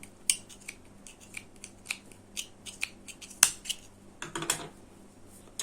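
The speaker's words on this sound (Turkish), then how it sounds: "Şimdi kesiyorum artık uzun bir şekilde bunu da." Scissors snip through crochet yarn for a basket bag, a series of short, crisp close-up cuts and clicks spaced irregularly, with one louder snip near the middle and a quick cluster toward the end, no talking.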